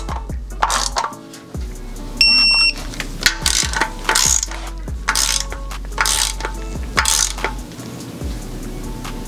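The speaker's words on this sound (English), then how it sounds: "Torque the lower oil pan down now." Rapid ratcheting clicks of a torque wrench snugging down the lower oil pan bolts on a 2JZ engine to about 6 to 7 foot-pounds, sounding in repeated bursts with short pauses and small metallic clinks between them.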